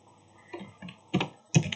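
Several separate clicks of keys on a computer keyboard, sparse and irregular, fairly close and moderately loud against a quiet background with no talking.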